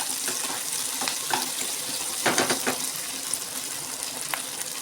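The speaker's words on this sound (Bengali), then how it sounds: "সব মশলাগুলো দিয়ে দিয়েছি। এবার একটু ভালো করে নেড়ে নিই।" Spices for a dhosar sambar fry in hot oil while being stirred, a steady close sizzle with a few brief scraping and clinking strokes.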